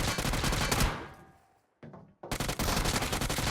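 Rapid automatic gunfire from a BGMI mobile battle royale match, dense loud bursts that cut out briefly into near silence before another hard burst and the firing resumes at full volume.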